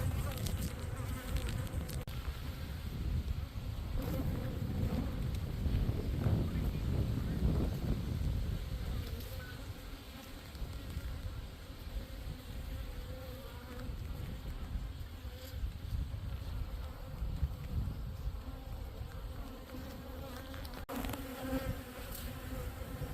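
Honeybees hum steadily around the entrance of a Flow Hive outdoors, a dense, continuous buzzing swarm close to the microphone with light wind noise and no voices.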